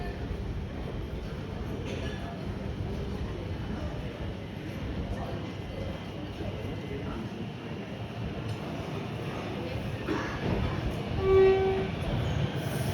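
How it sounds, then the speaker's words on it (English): A Siemens Nexas train pulls into a Melbourne station with a steady rumble of wheels and motors, fairly loud and near, while a person talks over the noise. "Here's a Siemens Nexas, set 741M."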